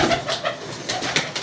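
Pigeons coo softly in a pigeon loft, a few low throaty pulses repeating irregularly against a hissy, rustling background.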